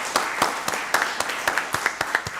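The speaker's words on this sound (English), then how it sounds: "I want to give Dr. Terry Oates a round of applause and the members of the Rockdale County Board of Education." A short patter of applause at a Rockdale County Board of Commissioners meeting, a modest group clapping in an irregular, fairly close rhythm.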